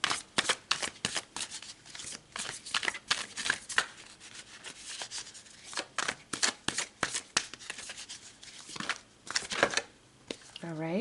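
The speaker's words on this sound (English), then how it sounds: "So let's pull some more cards." Tarot cards being shuffled close up, a run of quick riffling and rubbing bursts in an uneven rhythm that fills the whole stretch with no talk over it.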